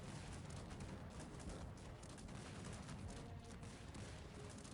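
Dense, continuous roar of battle noise with rapid overlapping blasts of cannons firing grapeshot in the strategy game Cossacks 3, loud and unbroken throughout.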